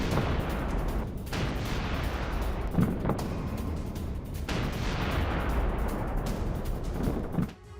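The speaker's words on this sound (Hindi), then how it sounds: "रूस के सबसे घातक टैंक का अटैक T-90M टैंक से यूक्रेनी ठिकानों पर शेलिंग की।" T-90M tank shelling Ukrainian positions in war footage: a dense, continuous roar of loud artillery fire and heavy booms that rises and falls over several seconds, with no speech.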